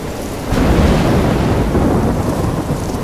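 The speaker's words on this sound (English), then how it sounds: "I'm trapped in a storm?" A video game thunderstorm from Life Is Strange: heavy rain pours in a dense roar, swelling louder as a thunder rumble rolls in, with no voices.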